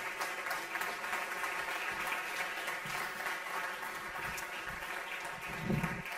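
Audience applause for the winners of the two previous editions at the Rin4' (Research in 4 minutes) final, a steady wash of clapping from a seated crowd, moderately loud and continuous throughout.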